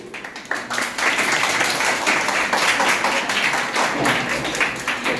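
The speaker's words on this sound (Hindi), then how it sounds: "तो हम द्रौपदी मुर्मू के लिए ताली बजा देंगे" Classroom group applauding in unison, a dense steady patter of many hands that starts softly and swells after the first second, then holds loud and continuous to the end.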